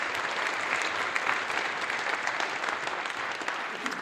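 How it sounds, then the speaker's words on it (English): Audience applause for a team at a charity event, a steady, dense round of clapping from a crowd that holds evenly throughout, with no talking over it. "let's give a round of applause to the team"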